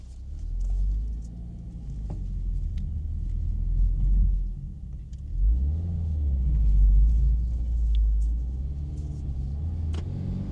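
A Subaru WRX tS with a manual transmission drives on curvy roads, its engine producing a loud, steady low rumble that swells and eases with throttle changes.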